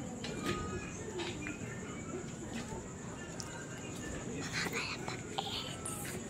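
Pigeons cooing softly and repeatedly amid a busy background of bird calls, with occasional voices nearby, at a racing pigeon training loft in Aliaga, Nueva Ecija.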